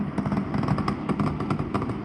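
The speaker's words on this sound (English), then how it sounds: "a massive show of firepower as hundreds of fireworks light up the night sky of downtown Los Angeles" Illegal fireworks going off over downtown Los Angeles at night, a rapid barrage of crackling bursts and pops, loud and continuous with no pauses.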